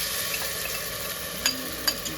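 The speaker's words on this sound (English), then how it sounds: "Curry from Trinidad, brought all the way, going into the onions and the garlic now." Trinidad curry sizzling with onions and garlic in a hot pot, a steady close frying hiss with a few sharp pops and stirring scrapes near the end.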